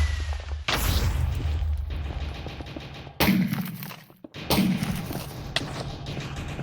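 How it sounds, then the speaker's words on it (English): Missile explosions in a combat video game: heavy booming blasts with rumbling low end, one large hit early and two more later, each followed by a sustained roar of debris and noise, loud and close. "There's a missile behind you."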